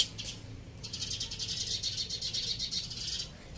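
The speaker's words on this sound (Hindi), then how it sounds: "तो मैं पहले इस बिल्ली को भगाती हूँ" A cat outdoors near birds being fed, with a high, wavering vocal sound that carries for about three seconds at moderate distance. No speech is present.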